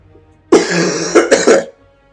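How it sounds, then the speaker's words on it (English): A single close, loud cough burst lasting about a second, with a couple of harsh throat-clearing pulses, then quiet. "Sorry for all the coughing."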